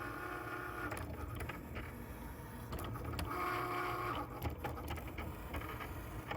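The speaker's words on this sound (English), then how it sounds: "So now I need to run this through my Cricut die cutting machine." A Cricut die cutting machine cuts a printed sheet, giving a quiet, close whirring drone broken by short, repeated motor shifts and mechanical clicks.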